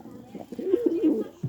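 A pigeon gives one short, close, throaty coo with a slight warble, rising briefly before fading.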